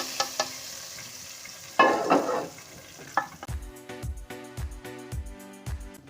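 Hot tadka tempering poured into cooked moong and masoor dal, giving a sudden loud burst of sizzling and crackling, followed by a run of rhythmic stirring scrapes in the pot.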